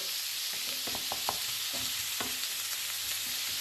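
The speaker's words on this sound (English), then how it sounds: "So that's frying away there nicely." Chili con carne sizzles steadily in a hot pan, with a constant hiss and occasional scraping knocks as it is stirred.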